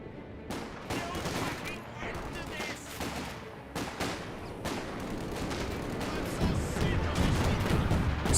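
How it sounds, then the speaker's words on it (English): Smoke barrage artillery fire in Company of Heroes 2, a real-time strategy battle: repeated sharp impacts and crackling gunfire spread through a dense battlefield din, with a voice talking over it. "Smoke barrage there."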